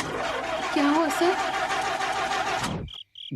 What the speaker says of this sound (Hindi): पहले गलत रास्ते पर आए, अब गाड़ी स्टार्ट नहीं हो रही है।